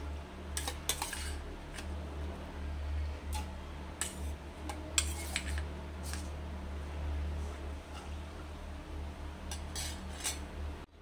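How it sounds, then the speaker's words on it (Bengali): Dry chana dal lentils tipped into a pressure cooker, scattered light clinks and ticking rattles in short bursts over a low steady hum, close and fairly quiet, with no talking. "এবার আমি এই ডালগুলোকে দিয়ে দিচ্ছি এখন প্রেসার কুকারের মধ্যে।"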